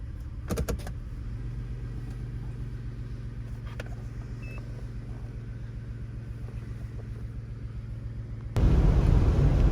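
A 2000 Toyota 4Runner with a 5VZ engine suspected of misfiring, steady low rumble from inside the cabin while driving, with a few clicks early on and a sudden louder surge near the end.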